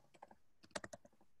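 Fingers type on a computer keyboard in two quick, uneven runs of close, crisp keystrokes, faint and alone with no voices.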